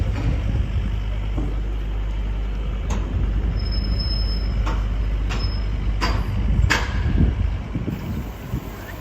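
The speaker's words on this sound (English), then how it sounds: "Some replacement buses" Replacement buses passing on a downtown Toronto street, a steady low rumble of heavy engines and traffic noise with occasional sharp clanks, moderately loud and continuous.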